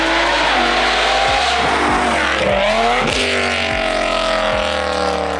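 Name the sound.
BMW E60 M5 engine with new headers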